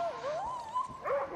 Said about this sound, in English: The puppy over there is crying.